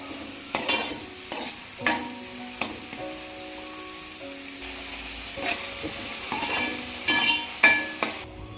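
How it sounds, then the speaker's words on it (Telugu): Two medium onions dropped into hot oil for a Telugu-style fish curry, sizzling steadily while a spoon scrapes and stirs the pan in repeated sharp clinks, close and moderately loud with no talking. "ఫస్ట్ ఆయిల్ వేసేసుకొని వేడైన తర్వాత ఆనియన్స్ వేసుకుందాం."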